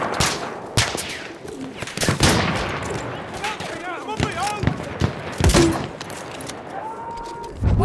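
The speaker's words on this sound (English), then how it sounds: "We have released the pigeon." War pigeon being released on the River Somme map in Battlefield 1, with cooing and bird calls mixed into loud surrounding gunfire and explosions, and voices speaking in the background.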